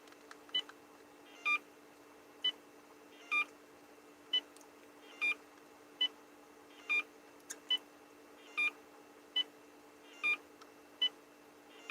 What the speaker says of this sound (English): the beep is just me deleting my caller ID